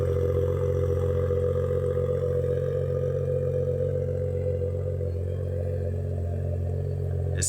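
A Toyota GR Supra with a MagnaFlow exhaust, some baffles covered and no downpipe, idles steadily in a loud, continuous low drone with no voices.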